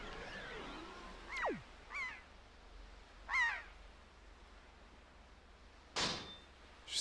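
Seagull calls in the video game Zelda Wind Waker HD, several short squawking cries spaced apart and then a sharp burst near the end, heard alone against a faint steady background.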